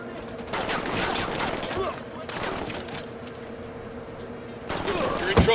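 Automatic gunfire bursts from a firefight in Ghost Recon Wildlands, loud rattling volleys in two main stretches with a quieter gap between them and a sharp burst near the end, over a steady game ambience.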